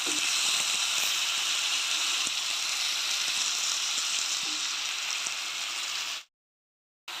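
Chicken with onion, dried chilli and curry leaves fries in a pan as a loud, steady hissing sizzle with faint scraping taps, holding for about six seconds before cutting off abruptly, with no voices.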